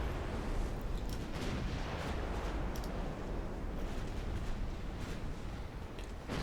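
Naval video game battle with a torpedo striking a battlecruiser, a dense continuous rumble of distant heavy explosions and gunfire rolling over several seconds, steady and low, no voices.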